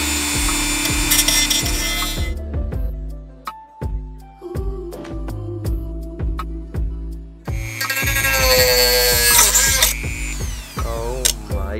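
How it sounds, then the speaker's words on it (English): A Dremel rotary tool cuts plastic nubs on a car mirror, a high whining grind in bursts, with sharp clicks and knocks between the cuts. "I'm gonna be using a Dremel, that's why I'm wearing these things. I have to cut these little nubs out."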